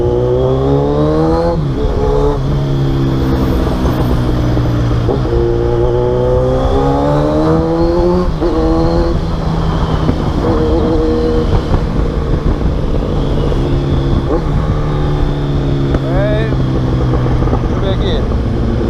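A Kawasaki Z1000 motorcycle with a full exhaust system revving repeatedly while stationary, loud close throttle blips that rise and fall in pitch over a steady idling growl.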